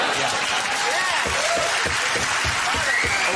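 Studio audience clapping on a British panel comedy show, loud and sustained, with some laughter and whooping voices rising through it and individual claps standing out near the end.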